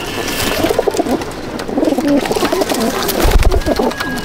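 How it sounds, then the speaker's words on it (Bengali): Teddy pigeons coo steadily in a loft, several birds close by with overlapping rhythmic, throaty calls and a faint voice in the background. "এই পায়রা"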